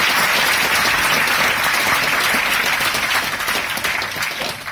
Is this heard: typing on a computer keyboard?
no